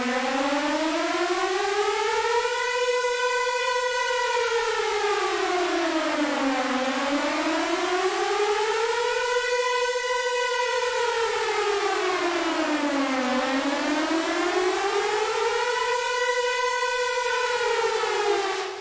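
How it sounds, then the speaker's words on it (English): A synthesized air raid siren made in the Vital synth rises and falls in slow, loud sweeping wails, three full cycles of a rich harmonic tone, with no talking. "Today I'm going to teach you how to make an Air Raid Siren in Vital."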